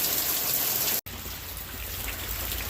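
Steady rain showers hiss down continuously on a wet day, a dense broadband wash of falling water that cuts out for a split second, then resumes just as heavy.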